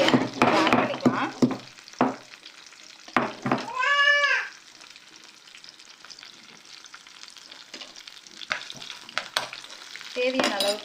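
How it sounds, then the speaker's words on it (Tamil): Mustard seeds, cumin, green chilli and crushed ginger sizzle and crackle in hot oil during a South Indian tempering. The spatters come in dense bursts that ease off, and a brief high tonal cry rises near the middle. "கடுகு, சீரகம், காரத்துக்கு ஏற்ற பச்சை மிளகாய் போட்டு தாளிச்சிடலாம்"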